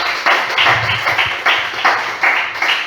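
A church congregation claps loudly in a steady rhythm, each burst of hand claps evenly spaced and sustained throughout.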